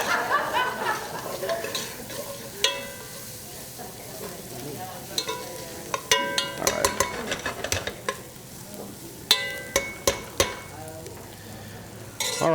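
Vegetables caramelizing in a pan sizzle steadily while being stirred, with scattered scrapes and clinks of utensils against cookware, close and moderately quiet, no talking.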